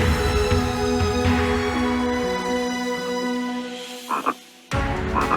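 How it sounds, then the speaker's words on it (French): Green frogs and common frogs croak in a floodplain wetland, a dense, loud, continuous chorus of overlapping calls that thins and drops out briefly near the end before resuming. "Les grenouilles vertes et rousses se sentent à l'aise."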